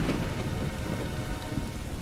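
Cartoon sound effect of heavy rain: a steady, dense hiss with low rumbling that suggests distant thunder, continuous and fairly even throughout with no voices.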